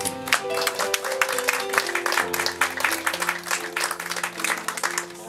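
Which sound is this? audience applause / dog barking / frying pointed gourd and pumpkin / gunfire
audience applause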